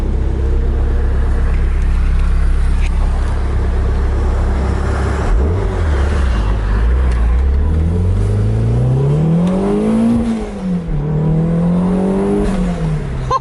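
A Toyota MR2 sports car engine roars loudly, revving up and down with rising and falling pitch as the car accelerates and shifts.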